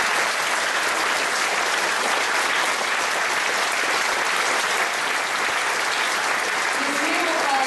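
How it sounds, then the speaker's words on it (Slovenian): Large audience at a political election convention in Ljubljana breaks into steady, dense applause, loud and continuous throughout with a faint murmur of voices underneath. "lahko mu namenimo še en velik aplavz"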